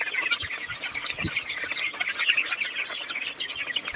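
Young pet chicks chirp busily at snack time, a dense, continuous flurry of high peeps and tweets close by with no talking.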